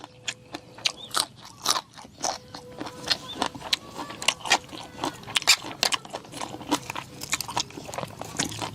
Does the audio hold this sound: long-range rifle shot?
no